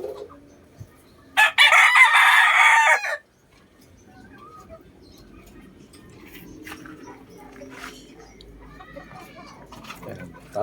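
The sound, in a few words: sweater cross gamefowl rooster crowing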